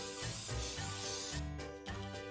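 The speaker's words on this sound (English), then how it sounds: "Be sure and spray your baking pan with Pam so it doesn't stick." Pam cooking spray hisses from the can onto a baking pan in a steady, close burst that cuts off, followed by a shorter second spray.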